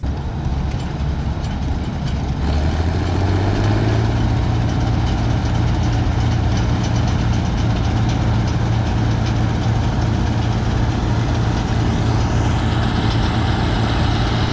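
A big Bizon combine harvester engine runs steadily at a constant, heavy drone, loud and close, with no change in pace and no voices.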